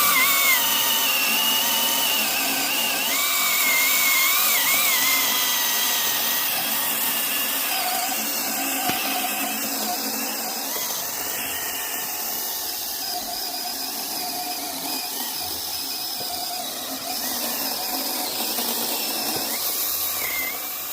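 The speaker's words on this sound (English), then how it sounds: "Now we'll come from the back side and cut the tree down." A SeeSii battery-powered pole saw cuts through a tree trunk from the back side, giving a steady, close whining motor drone with a rasping, squealing edge that holds for the whole stretch, with no talking.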